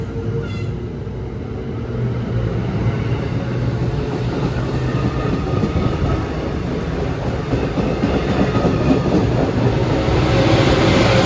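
A train with a Charger locomotive rumbles past close by on the Northeast Corridor between Baltimore and Washington, steady low roar with faint rhythmic clatter of wheels on rails, growing slightly louder toward the end.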